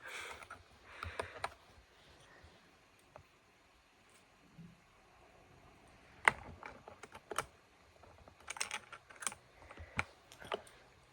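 Computer keyboard typed on in an ASMR setting, close and quiet, with bursts of keystrokes separated by pauses and a soft sniff-like sound partway through.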